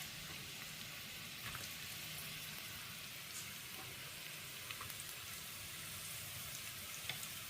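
Onions frying in oil in a pan give a soft, steady sizzle with faint crackles and occasional light pops, quiet and continuous throughout.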